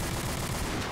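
Dense, rapid gunfire emptying magazines in a Tomb Raider video game, loud and continuous across a brief burst with no talk.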